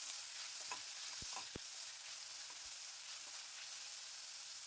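Finely chopped tomatoes fry in a pan with a faint, even sizzle, broken by a couple of sharp taps of a spoon against the pan early on, no talking.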